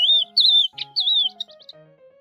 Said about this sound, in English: Lark, trilling and warbling song.